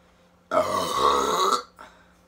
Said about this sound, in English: I'll let out a huge burp at the end for you guys.